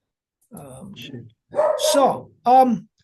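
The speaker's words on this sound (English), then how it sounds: "I apologize if in the background you can hear a dog, but I can't help that." A dog barks and yips in the background, three separate bursts of barking over about three seconds, fairly loud and close, with no other sound between them.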